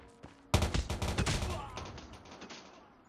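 M16 rifle fire in Call of Duty Mobile: a few faint shots, then a dense rapid volley of loud cracks for about a second, trailing into lighter scattered shots and echo.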